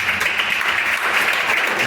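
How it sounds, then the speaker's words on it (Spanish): Church congregation clapping in praise during a Spanish-language sermon, a steady, full roar of many hands with no pause through the whole short burst. "Yo le daría un aplauso al Señor por eso."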